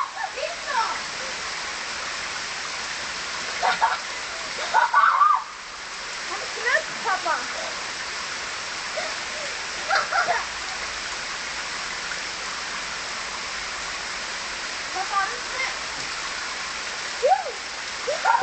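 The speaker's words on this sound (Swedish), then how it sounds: "Det är nämligen en utedusch på gång." An outdoor shower sprays water over a frog, a steady hiss of rain-like spray with scattered splashes, while voices talk faintly now and then.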